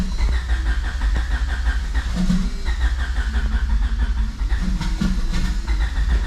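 A triple-turbo Honda Civic engine turns over with a steady, loud, low mechanical churning that never catches, the cranking droning on evenly without a start.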